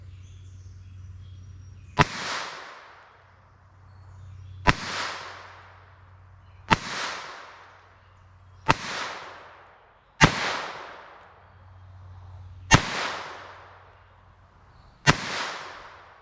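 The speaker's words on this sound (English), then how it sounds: "Let's pull out that Bobcat pistol, and we'll see how this does." Seven sharp, loud shots from a Bobcat .22 LR pistol firing Aguila subsonic rounds outdoors, spaced about two seconds apart, each crack trailing off into a short decay before the next.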